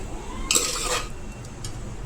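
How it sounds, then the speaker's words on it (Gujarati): Cooked ragda for ragda pav is lifted off the stove and tipped into another vessel, giving a short burst of metallic clatter and scraping of pots and utensils that fades into quiet room sound. "હવે નીચે ઉતારી લેશું અને બીજા વાસણમાં કાઢી લેશું"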